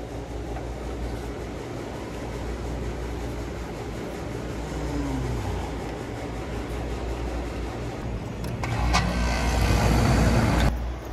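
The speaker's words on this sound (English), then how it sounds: "the compressor did come on" An apartment air conditioner compressor kicks on near the end, a loud low hum and rattle rising over a steady mechanical drone, with no talking.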